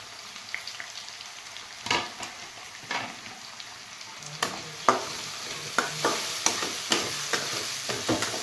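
Tomatoes go into a pan of frying bell pepper and carrot for veg pulao, a soft sizzle punctuated by a series of sharp spoon clanks and stirring scrapes, no voices.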